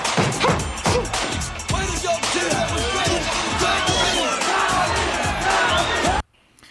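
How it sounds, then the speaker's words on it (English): A boxing crowd at Madison Square Garden roars and chants a fighter's name in loud rhythmic bursts, with shouts and cheering filling the arena before the noise cuts off abruptly near the end. "Now the crowd's chanting Tommy, Tommy."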